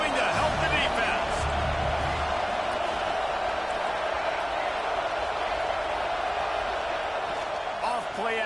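Steady loud stadium crowd noise from a college football video game, UCLA against Oregon, a dense roar sustained throughout with no clear swells, rising behind the defense on a late fourth down.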